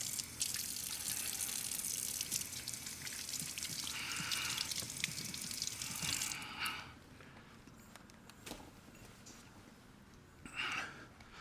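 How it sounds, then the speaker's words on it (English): Hands being washed under a running kitchen tap while baking maple chewy cookies, water splashing steadily for several seconds, then easing to quieter drips and a brief final splash. "Let me wash my hands."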